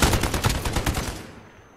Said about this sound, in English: Using a weird gun, looks like it's the AN.